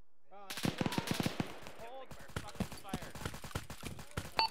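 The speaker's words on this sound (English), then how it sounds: "Single guy with a machine gun engaging Alpha right now." Automatic machine gun fire in the Arma military video game, loud rapid bursts of rounds cracking in quick rhythm with short pauses, while voices are faintly heard alongside.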